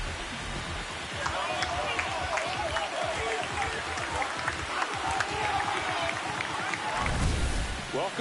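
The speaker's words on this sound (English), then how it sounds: "This crowd has really come alive." Loud, steady stadium crowd roar and cheering fills a baseball ballpark in MLB The Show 26 with the Miami Marlins, a dense continuous wash of voices with a surge near the end.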